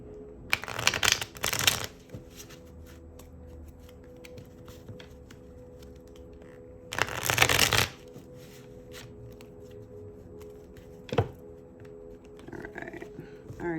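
A deck of tarot cards is shuffled in two loud, riffling bursts a few seconds apart, close up, with a soft hum and small handling taps between them.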